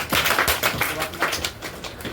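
Applause from an audience at a Class 10 topper award ceremony, a dense burst of clapping that runs loud for about a second and a half, then thins and fades, with some voices mixed in.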